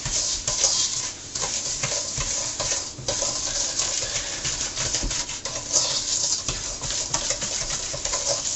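Close, continuous scraping and light clinking of a utensil stirring zucchini bread batter with sugar and vanilla in a bowl, steady and rhythmic with no talking.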